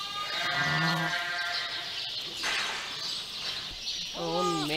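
A ewe with her newborn lamb bleats twice, close by: a short wavering call, a pause, then a longer quavering bleat, with steady background noise throughout.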